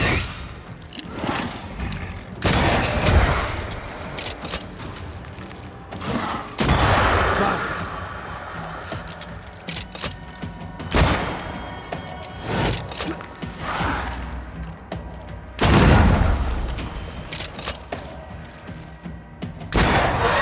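Gunfire from a corpse enemy in the game Banishers: Ghosts of New Eden, loud blasts and thuds bursting out at irregular intervals over a dense game soundscape, with talk mixed in.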